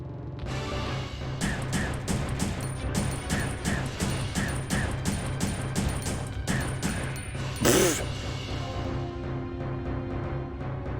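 Handgun shots ring out in Resident Evil Survivor, a string of sharp reports spaced roughly half a second apart over steady game background noise, with a heavier crash near the end.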